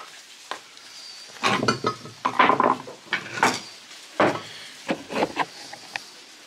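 Hail pattering and ticking on hard surfaces during an Ardennes winter, coming in irregular bursts of sharp clattering hits with brief quieter gaps between them, fairly close.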